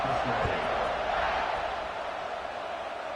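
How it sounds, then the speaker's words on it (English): Football stadium crowd buzzing steadily after a score, a broad, loud wash of many voices filling the space with no single sound standing out. "this crowd is buzzing after that last score"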